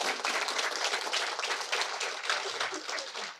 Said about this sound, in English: Everyone gets a clap.